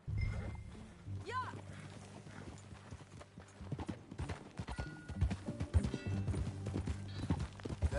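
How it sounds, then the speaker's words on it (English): Horse hooves clip-clopping at a steady walking rhythm in the western video game Red Dead Redemption, close and fairly loud, with low game music or ambience running underneath and a brief whinny-like rising tone early on. "That a new horse?"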